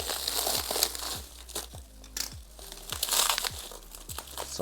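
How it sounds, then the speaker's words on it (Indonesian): Packaging being unwrapped from a Hakko compressor hose from Japan, steady crinkling and crumpling of plastic wrap with sharp crackles and rustles, close and continuous, no voices. "sekarang di sini ada selang kompresor dari Hakko Jepang. Kita akan coba unboxing."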